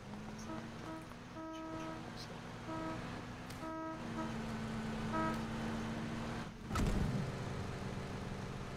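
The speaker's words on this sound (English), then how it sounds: "Did it just honk?" A car horn honks in a PUBG match on the Miramar map, steady repeated toots in an even rhythm over a running engine, with players talking throughout.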